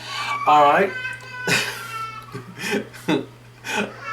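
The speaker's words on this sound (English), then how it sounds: "you can hear my little boy screaming in the background" A little boy screams and wails in the background at home, with several rising, whiny cries in bursts, while an adult briefly speaks nearby.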